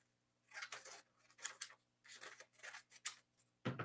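Paper being cut with scissors for an art-journal collage, a series of crisp snipping bursts in irregular clusters, close and fairly quiet, with no talking.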